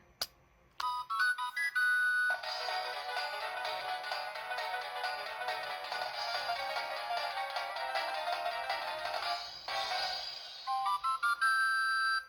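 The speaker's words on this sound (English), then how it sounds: "the middle button should play the transformation music" Bright, chiming electronic toy music from an Ojamajo Doremi magical-girl toy, a transformation tune with sparkly rising tones, then a sustained busy melodic passage, ending with another twinkling flourish; loud and close, no talking.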